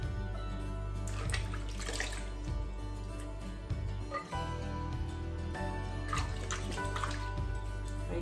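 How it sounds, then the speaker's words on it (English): Butternut squash leaves are rinsed under running water, giving a steady, close flow of splashing and dripping with occasional sharper spatters and no talk. "So this is the way how you wash these leaves."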